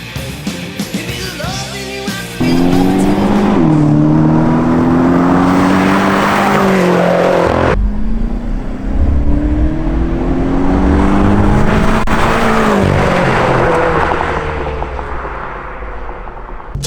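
Tuned, high-mileage BMW M5 with a new filter, engine loud and close, revving hard through rising pitch sweeps as it accelerates, with a brief break before pulling again; no talking.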